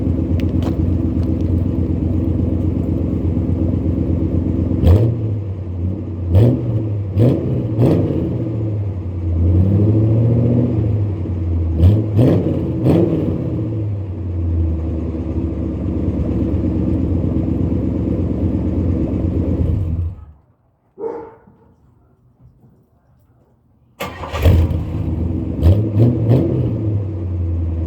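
An Oldsmobile 98 fitted with dual Flowmaster FX exhausts idles with a steady rumble and revs repeatedly in short bursts, cuts off into near silence, then starts up and rumbles again, loud and close.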